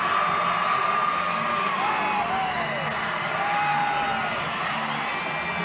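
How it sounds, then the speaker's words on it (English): Crowd in an arena at a girls' 2A basketball championship game at the Sevier Valley Center keeps up a steady roar with scattered whoops and shouts as the teams come onto the floor, loud and continuous throughout. "And you can hear the crowd."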